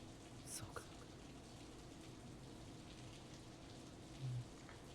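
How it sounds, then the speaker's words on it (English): Steady rain from the Steins;Gate 0 visual novel makes a faint, even hiss, with a few soft brief ticks in the background. "すごい降ってきたよ。"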